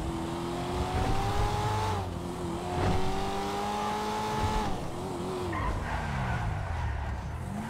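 A supercar in a video game accelerates and shifts, its engine note rising and dropping through gear changes, with tire squeal and skidding, loud and continuous throughout.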